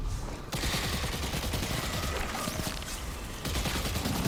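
Rapid video-game gunfire from a Strand Warlock shooting at knights, a dense continuous burst of crackling shots with a sharp cut near the start and a brief shift near the end.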